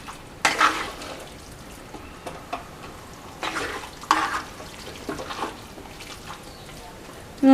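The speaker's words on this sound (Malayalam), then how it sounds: "ഇനി നമുക്ക് ഒന്ന് മിക്സ് ചെയ്ത് വെച്ചിട്ട് അടച്ചു വെച്ച് നമുക്ക് വേവിച്ചെടുക്കാം." Beef roast is mixed in a clay pot for Kerala-style beef varattiyathu, making several close, distinct scraping and sloshing strokes separated by brief pauses over a low sizzle.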